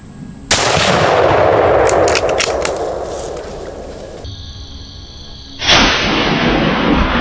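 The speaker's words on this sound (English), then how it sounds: "squeezed the trigger. Boom, a clean pinpoint shot." A rifle fires at a wild hog on a Louisiana farm, giving a sudden loud, close blast that rumbles on, then a second sharp burst a few seconds later.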